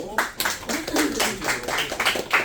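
A small audience at a sales performance talk claps in a brisk, uneven patter for about two seconds, close and moderately loud, with murmured voices mixed in.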